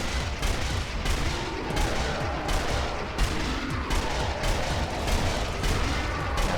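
Rapid, repeated gunfire from a powerful weapon in Sniper Elite Nazi Zombie Army, shots cracking in a steady rhythm over dense, loud game ambience without pause.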